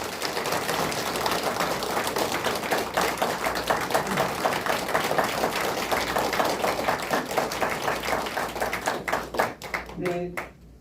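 Hands clap steadily and densely as a crowd welcomes mayoral candidate Kim Cheol-jin at his Ansan campaign press conference, then the applause thins out in the last second.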